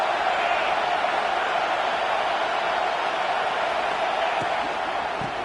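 Broad, steady roar of a stadium football crowd getting behind the defense on third down, a continuous loud wash of cheering without clear breaks.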